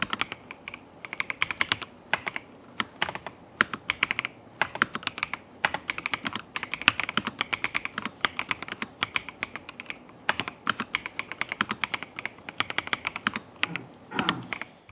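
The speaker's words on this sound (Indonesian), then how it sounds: "Terus buat yang penasaran gimana sih suara yang dihasilin sama keyboard ini?" Rapid, continuous typing on a Logitech Alto Keys K98M keyboard, soft close-up keystrokes in dense bursts with occasional brief pauses and a few heavier key thumps near the end.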